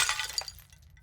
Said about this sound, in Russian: он услышал звук разбивающейся посуды